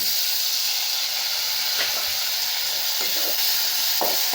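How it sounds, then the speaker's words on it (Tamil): Shallots, garlic, dried red chillies, coriander and curry leaves sautéing in oil, a loud continuous close sizzle with a few brief stirring scrapes toward the end. "இப்படி நல்லா வதக்கணுங்க. நல்ல எண்ணெயில் வதங்கிடணுங்க. சின்ன வெங்காயம், இந்த பூண்டு, வரமிளகாய், மல்லி, கருவேப்பிலைங்க."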